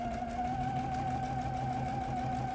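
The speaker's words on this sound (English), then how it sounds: "I start at the center, and I'm just going to sew an eighth of an inch" A sewing machine runs steadily, stitching an eighth of an inch along a fabric edge, a continuous close mechanical whir with a clear tonal hum and no voices.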